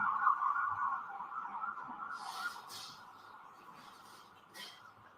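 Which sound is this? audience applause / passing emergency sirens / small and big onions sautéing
passing emergency sirens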